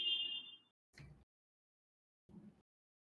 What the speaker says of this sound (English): whoever had a beep go on in the background